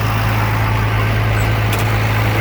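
A tractor fitted with a 301 engine on a 7060 chassis idles nearby, a loud, steady low hum with a constant deep drone and no talk.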